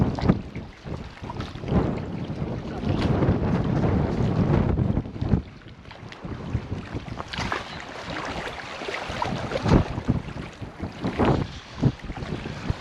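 Wind gusting along the Taman seashore, a steady broadband rumble that buffets the microphone, swelling and easing in uneven gusts with no voices.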